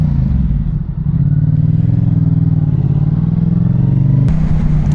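A Ferrari sports car engine drones loudly and steadily nearby on a coastal corniche road, with a sustained low rumble and a sharp rise in pitch near the end.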